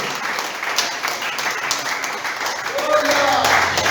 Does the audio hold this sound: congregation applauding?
yes